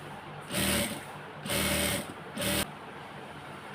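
A sewing machine attaches elastic to a gharara in three quick bursts of whirring stitching, each roughly a second long, separated by short pauses, loud and close with no speech.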